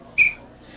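A hypnotist gives a single short, shrill whistle blast of about a fifth of a second at an all-night high school graduation party, standing out clearly above a quiet room murmur.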